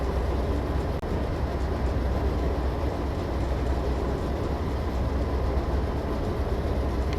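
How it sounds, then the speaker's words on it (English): A train in a simulator game runs at steady speed on level track, a continuous low rumbling drone with faint rhythmic rail texture and no talking. "I reduce throttle to a sixth as we maintain steady speed through marker 1773 on the level track ahead"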